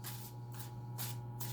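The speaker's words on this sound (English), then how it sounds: "is just shuffle the deck until you feel like stopping" A tarot card deck being shuffled by hand, with soft papery riffling bursts repeating in a loose rhythm over a steady low hum, close and fairly quiet.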